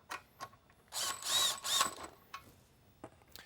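A power driver running screws back into the aluminum top cover of a Mini Liberty lightbar: short whirring bursts with two longer ones in the middle, plus light clicks and handling noises between.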